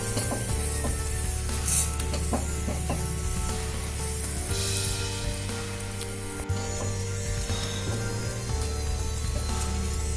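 A cabbage paratha brushed with oil hisses and sizzles on a hot griddle while it is pressed down, a continuous close frying sound with soft rubbing scrapes and low background hum throughout.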